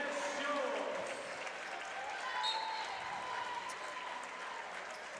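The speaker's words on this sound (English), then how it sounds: "they want to have Jenna Schultz, the senior, get one more big hand from this Cardinal crowd" Cardinal home crowd at a girls' high school basketball game giving a senior player a big hand near the final seconds, a soft, distant spread of clapping and crowd noise under an arena hum, with a commentator talking over it.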